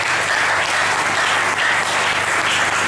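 A church congregation at a Sunday service applauding, a dense, loud wash of many hands clapping that holds steady throughout.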